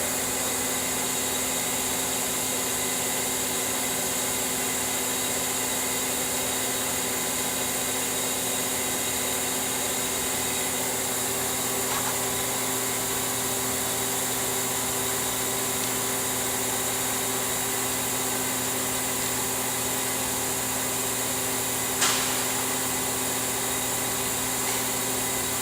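A March Instruments PX-500 plasma etcher chamber bleeding back to atmosphere after pumping down to vacuum, a steady, even hiss and hum with faint mechanical tones, unchanging throughout, with one brief click near the end and no talking.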